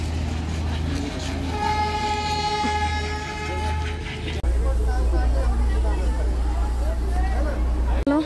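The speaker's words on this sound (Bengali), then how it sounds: "দেখো টয় ট্রেন" Darjeeling toy train at Batasia Loop, a steady near rumble with a long horn-like tone early on, then a louder, heavier running roar, with crowd chatter underneath.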